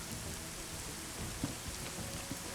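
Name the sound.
rain in a video game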